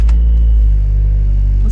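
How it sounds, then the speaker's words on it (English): A loud car engine rumbles close by in a deep, steady, heavy drone, with a brief burst at the start and a small rev near the end. "Are you ready to hear how loud my car is?"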